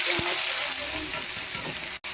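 Fenugreek seeds frying in hot oil for fish curry, a close, steady sizzle with a stirring tap near the start and a brief cut-out near the end.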